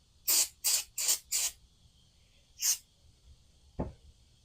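Brake cleaner sprays onto a part from a 2000 Carryall 1 utility vehicle in a series of four quick hissing bursts, then a fifth short spray and a single close thud at the end.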